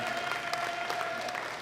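Audience applause at a women's masters classic bench press championship, a steady wash of clapping filling the hall for the athletes, with a faint sustained tone running underneath.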